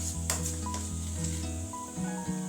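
Ginger paste frying in a pan with salt and turmeric for a chicken dish, a close, steady sizzle with a few sharp spatula clicks over a low constant hum, no talking.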